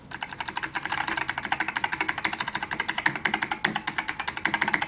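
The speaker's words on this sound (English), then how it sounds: "feels like a genuine ALPS keyboard" Someone types fast and evenly on a SolidTek ASK-6600C white ALPS mechanical keyboard, and each crisp, loud, close keystroke comes as a dense rhythmic clatter with no talking.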